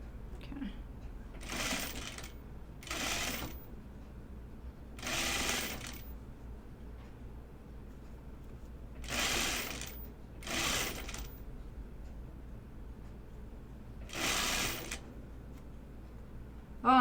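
Sewing machine stitching through thick ruffled plaid fabric, running in six short bursts of about a second each with quiet pauses between, at close range.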